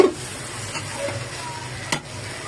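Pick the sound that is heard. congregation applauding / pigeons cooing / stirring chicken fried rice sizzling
stirring chicken fried rice sizzling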